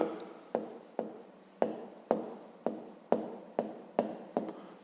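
A pen writes on paper up close in a quick, even rhythm of about nine distinct strokes, each a sharp scratch that fades before the next, with no voice over it.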